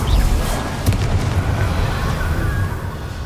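A Confringo explosive spell blast in Hogwarts Legacy, a heavy booming burst up front with a rumbling tail that fades over a few seconds, loud and close.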